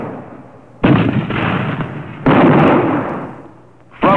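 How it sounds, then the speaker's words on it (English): Massed military artillery fire supporting an amphibious assault on land, heard as a few loud, heavy booms with rumbling decay. "artillery supports the assault with all the massed power of which it is capable"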